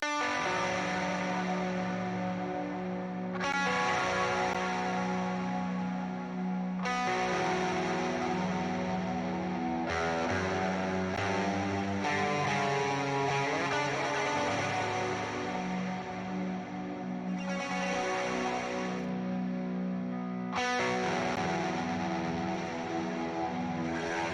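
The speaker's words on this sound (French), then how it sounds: "Et donc là on va voir leur nouveau plugin, le Valhalla Supermassive" A free Valhalla Supermassive reverb and delay plugin is demonstrated on sustained synth tones. Lush, echoing washes of sound shift from chord to chord in smooth sections with a steady hum and long, airy decays, and no talking over them.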